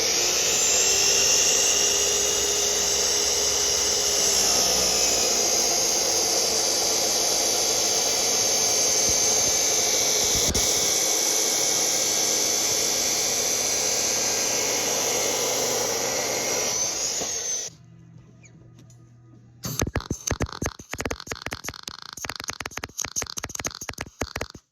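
Steel roof rack parts for an S-10 topper being cut with a loud, steady high-pitched abrasive whine that runs for about eighteen seconds, then stops. It is followed by a burst of rough, crackling welding noise.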